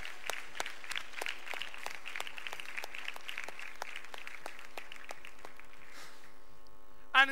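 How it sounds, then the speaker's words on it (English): Steady applause from a school audience after a dance troupe's performance, with a few sharp, regular claps standing out, and a brief voice breaking in near the end. "Give them a round of applause."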